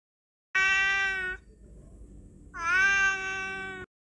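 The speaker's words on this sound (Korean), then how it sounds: "다음 날도 고양이가 창문에서 울었다." A cat meows twice at a window, each a loud, drawn-out cry close by, separated by a short pause with no other sound.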